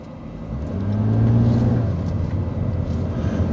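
A car on Goodyear Eagle GT tires with traction control fully off accelerates hard, its engine swelling into a loud, rising rumble that peaks briefly and then settles into a steady, sustained drone.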